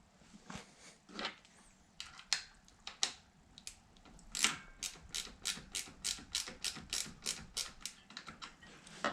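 Ratchet tightening a bolt on a mountain bike's Zoom brake, quick rhythmic clicking strokes, sparse at first then a steady run of close, crisp clicks.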